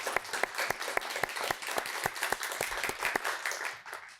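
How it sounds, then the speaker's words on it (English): A quiz-show audience applauds in sharp, distinct claps that keep a loose steady rhythm for about four seconds and fade slightly at the end. "can we raise the roof for a little applause for that man right over there, Kyle Kuppernall"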